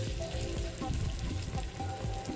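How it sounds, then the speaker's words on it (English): Starch-coated spare rib pieces frying in hot oil, a dense steady sizzle and crackle with small bubbling pops, close and fairly quiet, with no talking. "The oil is hot and time to add the pieces of meat."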